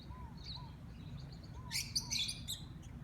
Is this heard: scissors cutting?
no